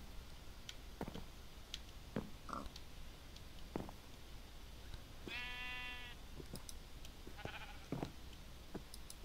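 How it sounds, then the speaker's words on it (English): A single sheep bleat in a video game, a short wavering cry heard once amid faint ambient clicks and rustles, fairly distant and quiet. "Must be a sheep or something out there."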